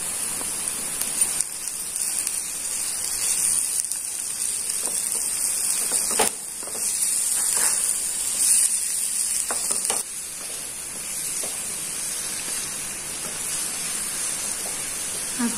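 Tomatoes hit a hot frying pan for butter chicken and sizzle steadily with a rain-like crackle and hiss, close and continuous, occasional stirring knocks, no talking.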